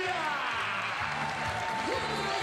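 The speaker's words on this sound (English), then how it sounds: "Doc Strange and company hearing it from a crowd that is all of a sudden became very Serbian." A basketball arena crowd at a FIBA 3x3 Europe Cup 2024 quarter-final, with Serbian fans in the stands, keeps up a steady, loud wash of cheering and applause throughout.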